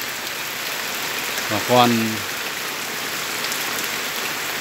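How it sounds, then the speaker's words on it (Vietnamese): Heavy afternoon rain in a highland village falls as a steady, dense hiss of downpour filling the background throughout, while someone speaks briefly over it. "Mưa rất to đấy."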